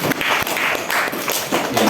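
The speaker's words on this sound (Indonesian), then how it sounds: "tepuk tangan buat kita semua Bapak Ibu ya" An audience of teachers and parents at a school workshop clapping together, a steady run of quick, close claps with no talk over them.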